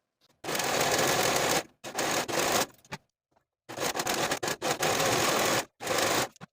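A sewing machine or serger finishes the outer curves of dress pockets in loud, close bursts of rapid stitching that start and stop several times with short silent gaps between runs.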